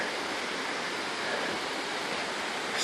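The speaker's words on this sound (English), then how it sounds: "There's Waterfall that I'm coming up on, and I just love the sound." Catamount waterfall at Green Mountain Falls, Colorado, roaring as a steady broadband rush of falling water, close and constant with no voices.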